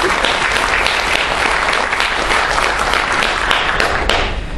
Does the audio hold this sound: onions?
no